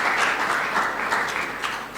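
Sustained applause from a standing audience at a graduation ceremony for the class of 2019, dense and steady throughout with no voices.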